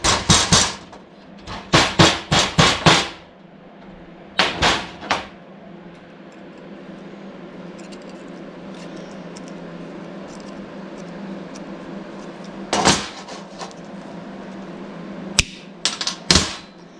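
Hammer blows on an old car body panel being straightened, sharp loud metallic strikes in quick clusters with gaps between, ringing over a low background hum.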